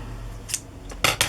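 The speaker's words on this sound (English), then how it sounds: "These are my better scissors." A few quick, crisp snips of scissors cutting through cardstock, close by, with short pauses between cuts and no talking.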